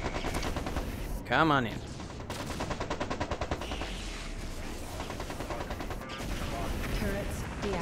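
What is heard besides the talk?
mechs firing at turrets in MechCommander 2 video game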